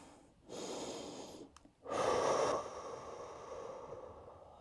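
Heavy breathing during a skipping-rope HIIT cooldown stretch, a long drawn breath in through the nose followed by a louder, forceful exhale out through the mouth, close and alone.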